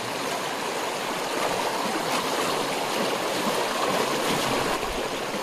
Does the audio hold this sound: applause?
no